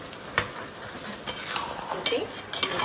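Paneer chilli with chopped green onion and sauce being stirred in a pan, a series of close clinking scrapes of a utensil against metal over a faint sizzle, with no talking.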